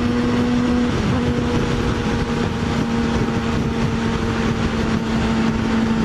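A Yamaha FZ6R motorcycle at speed on an open highway gives a steady close engine hum under heavy wind roar, unbroken throughout, with no talking.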